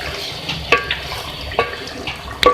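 Spicy chicken with fresh coriander is stirred in a pan, with a soft sizzle under a few distinct spoon knocks and scrapes against the metal, heard up close with no speech.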